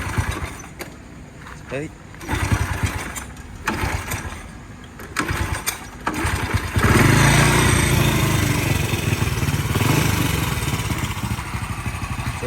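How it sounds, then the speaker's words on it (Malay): Honda EX5 motorcycle engine with a freshly tuned carburettor, cranked a few times before catching and settling into a loud, rough, steady idle close by, with someone talking briefly during the attempts. "So dah start lah, cuma idle dia nanti nak adjust"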